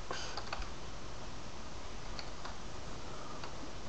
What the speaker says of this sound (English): press enter and then type in else